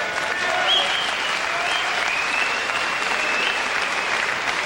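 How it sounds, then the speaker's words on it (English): A boxing-match crowd claps in a generous, sustained round of applause, a dense steady wash of hands that holds evenly for several seconds with no clear voices rising above it. "A generous round of applause, not surprisingly"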